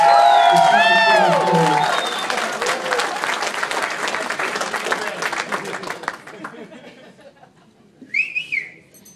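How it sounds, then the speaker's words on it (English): Wedding guests burst into loud, sustained applause with whistles and cheers, the clapping fading after about six seconds, followed by a brief high whistle near the end; voices murmur beneath. "definitely give her a nice round of applause"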